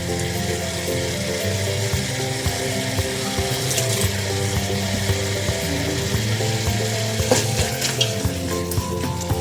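Shrimp paste (bagoong) cooks in a pan for pinakbet, giving a continuous, even sizzle with occasional clicks and scrapes of stirring, no voices.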